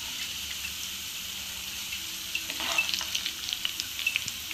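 Onion pakoda deep frying in hot oil, tea-shop style, makes a steady, dense hiss of bubbling with a brief louder crackling surge midway and light scattered pops; close and continuous, no voices.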